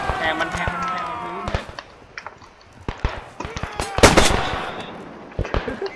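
Rapid gunfire bursts and single shots ring out in the World War I shooter Beyond The Wire, loud and close, mixed with footsteps, game noise and excited players talking over the action.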